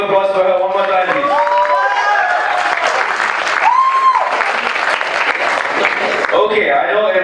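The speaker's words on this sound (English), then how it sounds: "Can we have a round of applause for her one more time," Wedding guests at a Pan Pacific Hotel reception give a sustained round of applause, steady dense clapping filling the room with a few voices and cheers mixed in throughout.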